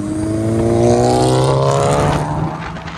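A Volkswagen MK7 GTI engine revs up through a loud, raspy aftermarket titanium exhaust, pitch climbing steadily before easing off, close and dominant.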